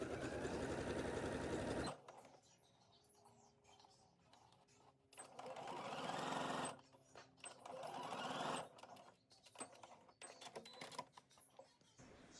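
A sewing machine edge-stitching a facing onto a bodice whirs in several quick bursts between pauses, close and fairly quiet, with no talk over it.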